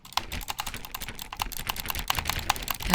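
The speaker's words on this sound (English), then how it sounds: "That's butterfly clicking, man." Rapid butterfly clicking on a computer mouse while playing The Stanley Parable Ultra Deluxe: a dense, continuous stream of sharp, close clicks that stays steady for the whole stretch with no talking.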